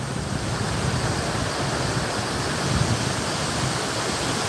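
A waterfall near Forsyth, Georgia, pours in a steady, even rush of water that continues unbroken.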